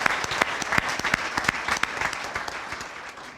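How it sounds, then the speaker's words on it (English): A room at a police services awards ceremony claps for an award recipient: brisk, steady applause from a modest crowd, heard alone and fading slightly toward the end. "I would ask we recognize her anyway with a round of applause"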